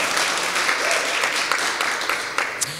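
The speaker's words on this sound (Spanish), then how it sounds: "nos encanta aplaudir aquí, ¿no?" A church congregation applauds during a service, a dense, lively clapping close by, with a few louder claps near the end and faint voices underneath.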